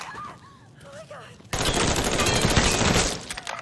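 Sustained automatic gunfire from Mafia 3 erupts midway, a loud dense burst of rapid shots that runs to the end, with quieter voices heard beforehand.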